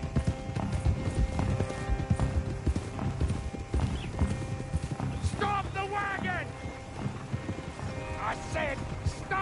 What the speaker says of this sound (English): said stop the damn wagon! Whoa!